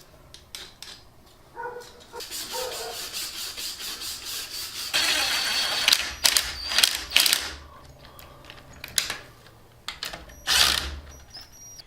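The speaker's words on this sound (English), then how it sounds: "start scraping off the old gasket material to get ready to put our new gasket on here" Old gasket material is scraped off a differential housing in irregular bursts of sharp metallic scraping and rasping, separated by short pauses.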